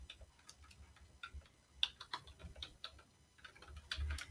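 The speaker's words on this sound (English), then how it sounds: "I'm typing it in now." Typing on a computer keyboard during a livestream, a quiet, irregular run of light key clicks at close range with small bursts and pauses, no voice over it.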